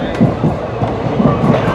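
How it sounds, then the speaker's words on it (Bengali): The Lalgola passenger train rolls into Murshidabad Junction station, a steady close rumble with rhythmic wheel clatter and knocks over brief moments, with no clear speech. "মুর্শিদাবাদ স্টেশনে কিন্তু ঢুকছে এখন ট্রেন, অর্থাৎ লালগোলা প্যাসেঞ্জার।"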